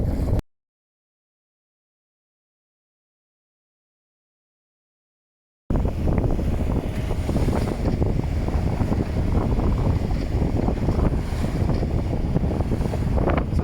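Sailboat motoring into a 15 to 17 knot headwind through lumpy wind-against-tide waves on the Irish Sea, loud steady wind roar and wash after a long silent gap, with no talking.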